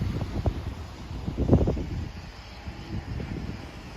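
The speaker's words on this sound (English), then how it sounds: "Boy, it's a windy day." Wind at Lighthouse Park on the Gulf Coast in Pascagoula, Mississippi, buffeting the microphone in low rumbling gusts with a steady outdoor hiss, moderately loud and continuous with no one talking.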